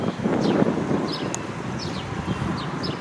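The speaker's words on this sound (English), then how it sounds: "A slightly cool, gentle breeze" Soft wind blows steadily outdoors, a low rushing breeze with a few faint birds chirping in the background.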